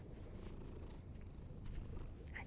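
Continuous low purring from a nearby cat, rhythmic and even, with a few soft rustles and no talking.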